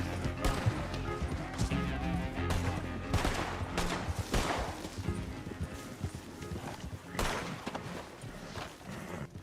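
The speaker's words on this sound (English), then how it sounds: "Riding on my horse." Horse hooves clip-clop steadily while riding in an outlaw video game, loud and close, mixed with scattered gunshot-like cracks and game sounds, with a voice talking intermittently over it.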